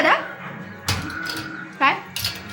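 Two puppies let out short, high-pitched whimpers in a few brief bursts close by, mixed in with people talking.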